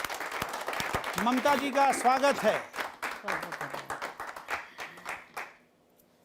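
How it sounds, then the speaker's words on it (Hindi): Audience applause and clapping at a live Hindi kavi sammelan (poetry gathering), a dense patter of claps running under someone speaking into the microphone, then thinning and fading away near the end. "तो एक बार जोरदार तालियों से स्वागत करते हैं"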